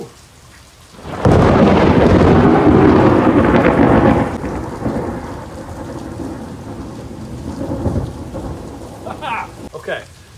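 Thunder crashes loudly amid heavy rain at a pop-up camper, one long rolling peal that fades into a steady downpour drumming on surfaces, followed by a few faint higher sounds near the end.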